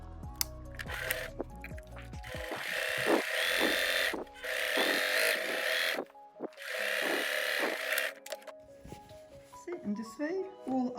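Sewing machine stitching a French seam on a pillowcase, heard as three steady motor-and-needle runs separated by short pauses, moderately close, with handling clicks between and after the runs.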